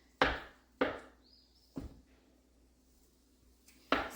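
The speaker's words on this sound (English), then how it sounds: "I'm gonna grab just a wooden spatula here. And just kind of chop this up a little bit" Wooden spatula chopping at food browning in a pan: four sharp, separate knocks spaced unevenly, close and fairly loud, with a faint sizzle and a brief light scrape between them.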